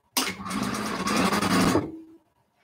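Sewing machine running a quilt seam in one continuous loud, rapid stitching burst of about two seconds, then winding down and stopping.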